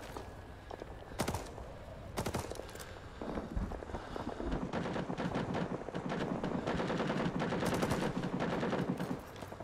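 Gunfire rattles through a Rising Storm 2 match in an ARVN-side battle, with sharp rifle shots early giving way to sustained automatic bursts and scattered footsteps, loud and continuous through the second half.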